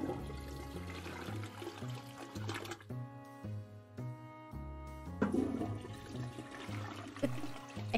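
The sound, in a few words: toilet flushing in the video game Toilet Flushing Simulator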